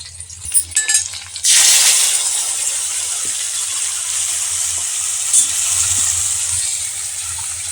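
Chopped onions hit hot oil for a potato-onion curry, a few clinks up front giving way to a loud, steady sizzle that fades a little but keeps hissing close by with no one talking.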